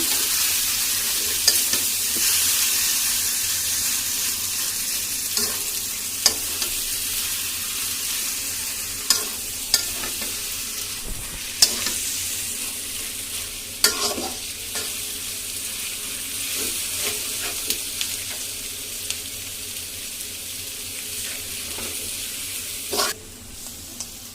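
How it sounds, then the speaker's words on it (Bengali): Meat filling fries in a frying pan with a steady, close sizzle. Scattered scrapes and clinks of stirring break through it at irregular moments. "তাই নামিয়ে ফ্রাই প্যানে ভাজা ভাজা করতেছি"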